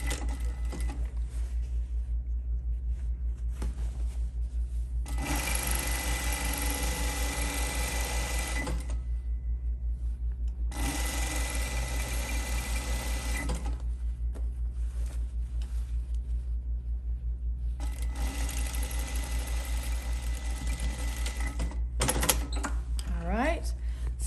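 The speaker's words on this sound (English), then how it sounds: "And sew this side together." A sewing machine stitching the side seam of a market tote bag in three long, steady runs of rapid mechanical whirring. It sits close against a constant low hum, with quiet pauses between runs.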